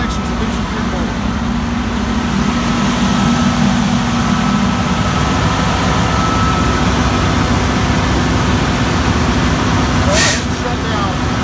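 A fire engine pump running at 170 psi discharge, flowing through 200 feet of 2.5-inch hose with two 100-foot sections of 1 3/4-inch line; a loud, steady mechanical drone with a constant hum that lasts the whole time, with some talk over it.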